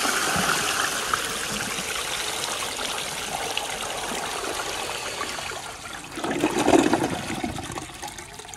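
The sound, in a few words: 1920 Standard ejecto toilet flushing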